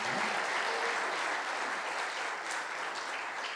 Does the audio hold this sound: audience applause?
yes